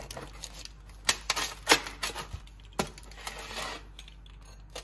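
A knife or cutter slicing a freshly baked pizza into triangle pieces, a string of close crunchy clicks and scrapes against the pan, irregular and brisk.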